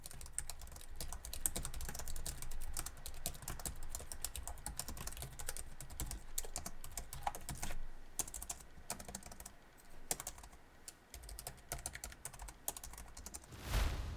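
Continuous brisk typing on the pantograph keyboard of a Gigabyte G5 KEz gaming laptop, dense soft clicks in an uneven rapid rhythm, close and fairly quiet, with brief pauses toward the end.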